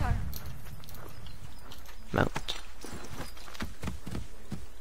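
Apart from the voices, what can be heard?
horse hooves clomping, from a video game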